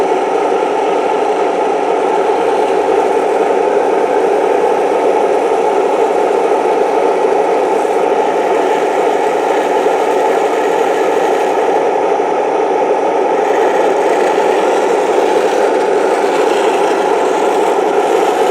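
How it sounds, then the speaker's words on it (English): A radio-controlled Panzer III model tank fitted with dual ratio gearboxes drives along, giving a continuous loud whirring motor and gear drone with a grinding, rasping texture that holds steady throughout. "Now this is the tank with the new dual ratio gearboxes in it. It has very good low speed control."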